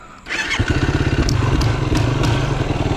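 A Yamaha YFZ450R quad's engine barks to life and then revs hard and steadily at close range for a wheelie, with a loud, pulsing, throaty roar and a few clattering knocks over it.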